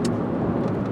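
A brown 1999 Chevy Malibu LS driving down the road, a steady, quiet low hum of engine and tyre noise heard from inside the car for about a second.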